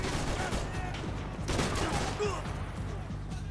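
Gunfire in Max Payne 3, rapid bursts of shots layered into a dense, steady in-game soundscape at moderate level.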